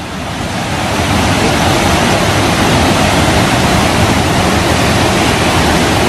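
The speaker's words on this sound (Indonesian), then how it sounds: "suara arusnya keras, no. Ini arus sungainya, teman-teman" The Petanu River in Ubud, Bali rushes in a loud, dense, unbroken roar of fast-flowing current heard up close, rising over the first second and then holding steady.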